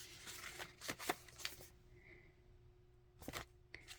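Pages of a journal are flipped through, making soft, quick papery rustles and riffles in short bursts, close and quiet, with a brief lull in the middle.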